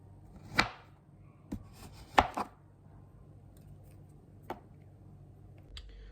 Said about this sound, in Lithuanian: Vat ir supjaustytas visas šokoladas